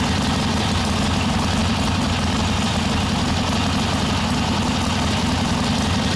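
Harley-Davidson Ironhead Sportster XLCH engine with a Tillotson carburetor runs steadily at idle, a loud, continuous low rumble with no break throughout.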